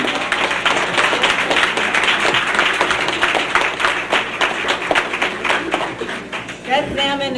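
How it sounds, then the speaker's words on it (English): An audience gives a round of applause for two 90-year-olds at a community gathering, steady clapping from a crowd lasting several seconds while voices talk over it. "We might want to give a special round of applause to Zelma Sanderson and Leroy Smith, both who are 90 years of age."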